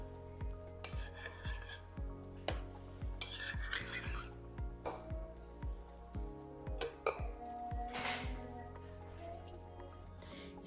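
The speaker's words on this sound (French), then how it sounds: "Ensuite, nous mélangeons un peu sur le principe des œufs en neige en faisant attention de ne pas écraser la préparation." A hair-care preparation stirred in a bowl, whisked gently like egg whites, with repeated clinks and scrapes of a utensil against the bowl over a steady humming background.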